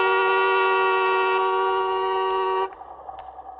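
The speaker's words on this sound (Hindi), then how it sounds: "अरे देख क्या रहे हो, हॉर्न बजाओ ना।" A long, steady car horn blares loudly and close for over two seconds, then cuts off, leaving faint background noise.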